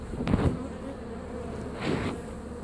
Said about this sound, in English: see all these bees flying around me